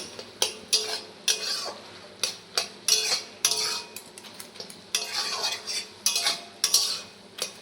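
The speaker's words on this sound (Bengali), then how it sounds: "এই কচুর ফুলকে কিন্তু ভালো করে ভাজতে হবে।" Taro flowers being stirred and fried in a pan with a ladle, giving a string of scraping, clinking strokes against the metal over a faint sizzle, fairly close and with no talking.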